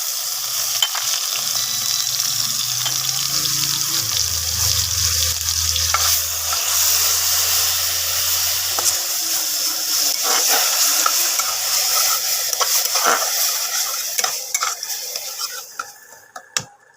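Onions sizzle loudly in hot oil in a pan while being stirred, with steady broadband frying hiss and scraping strokes throughout, fading out near the end; prepared during chicken rezala cooking with spices like cashew paste and garlic paste nearby.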